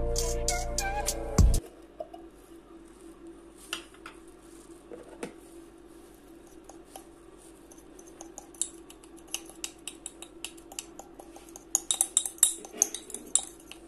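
A teaspoon scoops and clinks against a container while firework chemicals are mixed by hand. A brief loud clatter comes first, then sparse, sharp metallic taps and scrapes that grow busier toward the end, with no talking.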